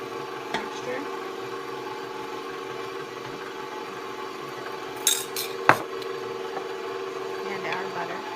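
A stand mixer hums steadily on its lowest setting while mixing potato bread dough, with a constant motor drone and a few clinks from the bowl or utensils.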